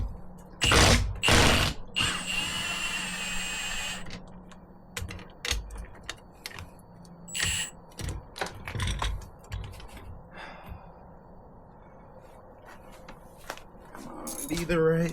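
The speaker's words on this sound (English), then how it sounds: "And now I get to undo this bolt" A ratchet loosens a suspension bolt on a Ford F150 Tremor pickup during a suspension install, with bursts of close, sharp mechanical clicking and clatter separated by pauses, and some talk between them.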